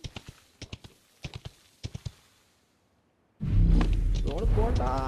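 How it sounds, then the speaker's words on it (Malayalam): Horse hooves clip-clop in PUBG Mobile, sounding in short rhythmic clusters of sharp clicks that then fall silent. A loud, dense rumbling burst follows. "ആ കുതിരയാണ് വിസിലടിച്ചാലെങ്കിലും വരും"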